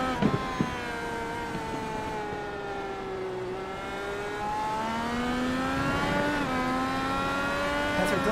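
A race car from iRacing's IndyCar Euro Series at Zandvoort drives into a corner, its engine note falling and rising through gear changes, steady and loud, with a brief tire squeal and no talk.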